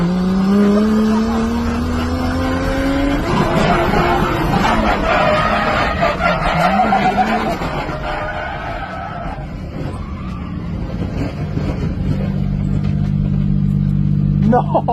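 A drifting race car at Apple Valley Speedway, its engine droning and rising in pitch with bursts of tire squeal, while a crowd murmurs and a voice talks over the run.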